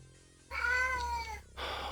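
A house cat meows loudly and close by, one drawn-out meow followed by the start of a second, with quiet surroundings between.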